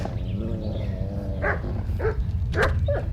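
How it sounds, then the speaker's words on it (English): A wolf attacks in the medieval video game Kingdom Come: Deliverance, giving a string of snarling yelps and barks over a steady low rumble of game background noise. "Help! Wolf!"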